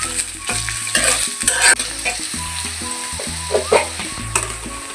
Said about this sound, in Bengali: প্রথমে দিয়ে দিব কিছুটা বেশি পরিমাণ পেঁয়াজ কুচি, তারপর দিয়ে দিচ্ছি ফালি করে রাখা কাঁচামরিচ